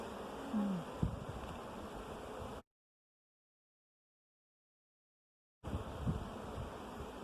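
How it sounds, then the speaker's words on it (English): Honeybees buzz around a hive in a community garden, a faint steady insect drone with a gap of silence in the middle and no speech. "I'm going to show everyone the bee with its pollen sacs matching my gloves here."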